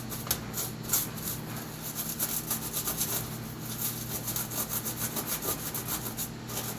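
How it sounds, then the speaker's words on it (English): Corrosion is burnished off small brass stove parts. Close rhythmic scraping and rubbing strokes repeat steadily throughout, moderately quiet, with no voices. "we'll burnish these a little bit. Corrosion off of it."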